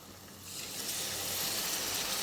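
Tamarind juice goes into a hot pan of egg curry, setting off a rising, close sizzle that swells within a second and holds as a steady loud hiss.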